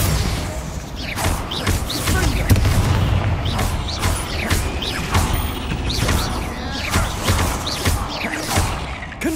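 Hogwarts Legacy Bombarda and Confringo spell blasts go off in a fight inside a tomb: a string of loud, booming impacts with crashes and mechanical clatter, packed together over about nine seconds amid continuous combat noise.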